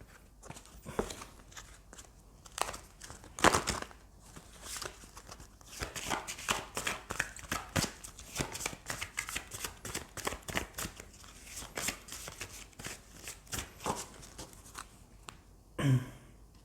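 Tarot cards are shuffled and drawn by hand, with irregular close-up riffles, snaps and soft card slaps at an uneven pace and a louder slap near the end.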